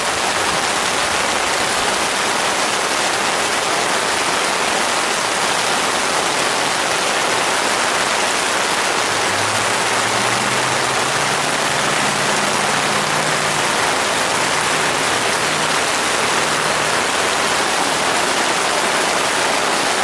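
Steady rain falls on and drips off the rain fly of a Coleman Sundome 4-person 9x7 tent, a continuous close hiss of drops with no voices.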